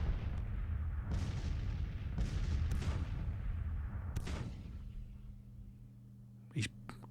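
Artillery bombardment in the Civil War strategy game Grand Tactician: several heavy, rumbling cannon booms land about a second apart and fade out, followed by quieter ambience, with someone talking over it.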